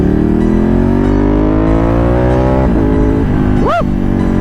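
A Ducati 1199 Panigale motorcycle fitted with a Deadshot exhaust roars continuously inside a tunnel, its deep, loud engine note climbing steadily in pitch as it revs, close and echoing, with a brief sharp blip near the end.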